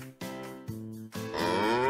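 A cow moos three times on a farm in an animated children's story: two short, close lowing calls followed by a longer, drawn-out moo with no other sound.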